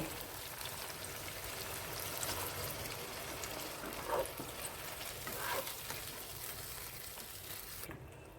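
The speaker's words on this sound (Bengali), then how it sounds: "1 কাপ পরিমাণ পানি দিয়ে দেব।" Water poured into a pan of frying masala and eggs for egg curry, a steady sizzle and bubbling hiss running throughout with a couple of louder spatters midway, close and alone without any talk.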